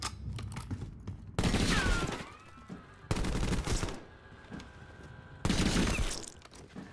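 A modified gun with its stock changed and underbarrel removed fires in The Guest video game, in three loud sustained automatic bursts separated by quieter gaps of game ambience.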